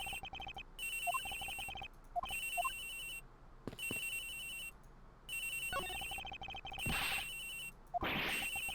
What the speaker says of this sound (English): Ringing is coming from somewhere around here.